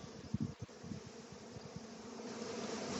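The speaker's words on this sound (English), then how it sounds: "Now see, they're fanning good now," A honey bee swarm fans and flies toward a hive box with a soft, continuous buzzing hum that is faint and steady, with no voices.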